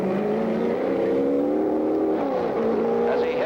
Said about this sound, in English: as Bruce had a little trouble getting the engine started.